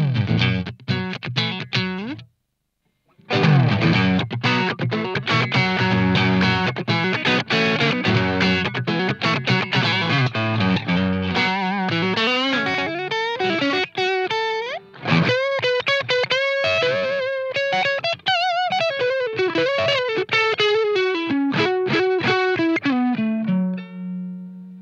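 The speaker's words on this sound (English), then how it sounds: "the wonderful mid-focused seasoning of a tube screamer, an Ibanez TS-9" Electric guitar driven through an Ibanez TS-9 Tube Screamer overdrive pedal, playing loud, sustained mid-heavy overdriven chords and then a bending single-note lead line, steady and continuous after a brief pause near the start.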